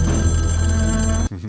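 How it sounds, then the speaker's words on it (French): An old-style telephone bell rings loudly and continuously, a bright metallic trill close by that cuts off abruptly near the end. "Un téléphone sonne."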